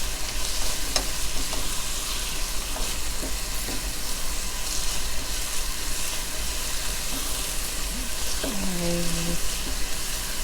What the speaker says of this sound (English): Now we're going to cook this until the onions turn a little translucent.